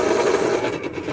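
A pencil being sharpened at close range, giving a steady scraping, grinding rasp that runs unbroken for about a second before easing slightly.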